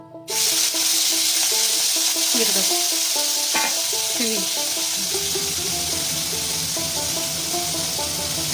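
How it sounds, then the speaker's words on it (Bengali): Dried fish (shutki) frying in a little oil, a loud close sizzle that bursts in abruptly and holds steady, with scraping stirs and a sharp clatter midway. "অল্প খানিক সামান্য খানিক তেল দিয়ে হচ্ছে শুকটাকে হচ্ছে আমরা ভাজি নিব অল্প অল্প"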